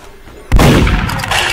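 A single loud gunshot from the MM2 video game bursts out suddenly after a quiet start and rings on with a sustained, noisy tail.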